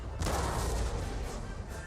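A deep boom of heavy artillery guns firing in the John Tiller Napoleonic Series Battle of Talavera game, one loud rumbling report that fades over a second or so.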